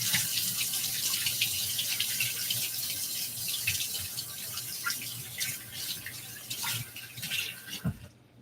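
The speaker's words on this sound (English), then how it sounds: "I'm gonna wash this knife" Tap water pours steadily into a sink as a knife is washed beneath it, a close, continuous splashing hiss with small clinks and changes in the flow before it shuts off at the end.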